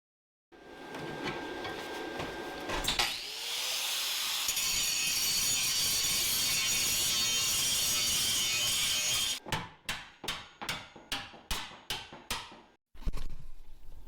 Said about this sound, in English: Use my plasma cutter, still gotta grind it.